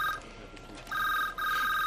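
A telephone rings in a film scene with an electronic warbling tone, one burst ending and a second starting after a short pause, clear and fairly loud against a quiet background.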